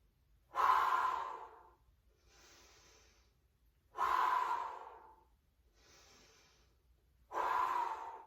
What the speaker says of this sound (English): Exhale as you lift.